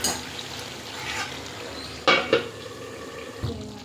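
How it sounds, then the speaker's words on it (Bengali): A metal lid is set onto a pot of simmering chicken curry, giving two sharp clanks close together near the middle, then a softer knock, over a faint bubbling kitchen background. "আর একটু ঢাকা দেওয়া হোক"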